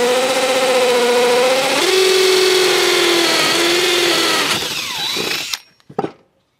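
Power drill boring holes into a wooden carpenter bee trap: a loud, close, continuous whine that drops in pitch as the bit bites and bogs, then cuts off abruptly followed by a few faint clicks.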